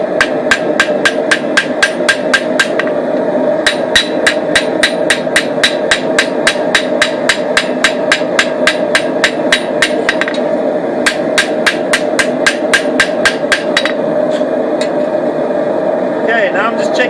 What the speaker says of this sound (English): Pinching the tip between the hammer and the anvil, which gives me a nice point.